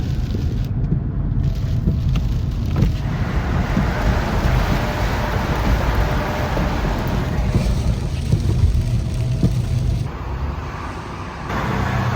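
Heavy rain falling in sheets, a dense, steady roar that stays loud and constant throughout with wind-like rushing, easing slightly near the end.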